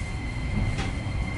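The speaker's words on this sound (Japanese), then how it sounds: "この電車は内回りを循環します。" A Sapporo streetcar on an inner loop route rolls along its rails with a steady low rumble and a constant hiss, heard from inside the car, with one brief rise in noise partway through and no talk.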